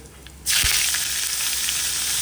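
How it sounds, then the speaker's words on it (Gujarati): Mustard and cumin seeds hit hot oil for a Gujarati tuvar dal tempering, bursting into a sudden loud, steady crackling sizzle after a quiet start, close by with no talk. "વઘાર થઈ જશે એવી તરત તમને રાઈ ફૂટવાનો અવાજ આવશે અને જીરું પણ"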